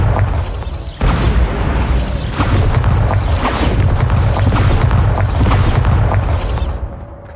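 A spell blast in the video game Hogwarts Legacy goes off as a loud, booming burst, followed by sustained rumbling crashes and debris for several seconds, with no voices.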